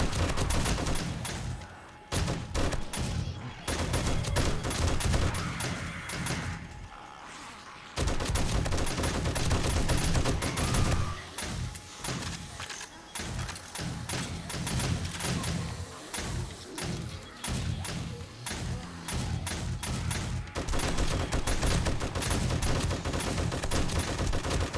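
Sustained gunfire aimed at zombies during cleanup after a horde night at a 7 Days to Die Alpha 20 base, dense repeated shots with short pauses and heavy thuds running throughout, close and loud.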